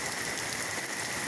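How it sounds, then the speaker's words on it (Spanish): Rain falls in a dense, steady hiss during a countryside storm, close and uniform, with no other sounds. "¿Pero tras cuántos años está lloviendo"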